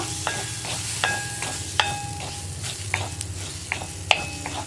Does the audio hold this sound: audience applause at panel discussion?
no